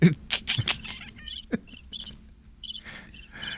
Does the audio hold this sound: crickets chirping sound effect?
yes